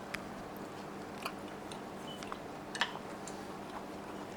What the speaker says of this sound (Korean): 우메보시 먹어보겠습니다